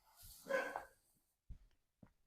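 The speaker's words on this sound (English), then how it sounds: "if you can hear my dog barking" A dog barks once, loud and nearby, then gives a couple of softer huffs after a pause in an otherwise quiet room.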